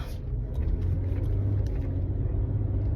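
A car drives home after a night shift, its engine giving a steady low rumble and road drone from inside the cabin, continuous and moderately loud, with no talking.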